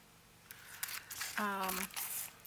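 Scissors snip a paper strip apart in a short series of crisp cuts, close and moderately loud, mixed with light paper crinkling over a quiet room.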